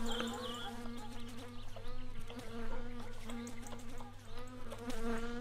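An in-game housefly buzzing in My Summer Car, a steady droning whine hovering close, rising and falling slightly over a low hum, with no speech over it.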